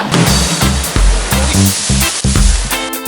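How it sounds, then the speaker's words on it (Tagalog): Loud, continuous rush of crashing water with repeated surging bursts, close by and filling the scene, like strong surf breaking. "ang lakas ng alon"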